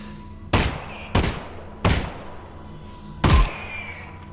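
Four loud, sharp pistol shots in Half-Life: Alyx ring out singly at uneven intervals, each a close, punchy bang with a short echoing tail, and no talking between them.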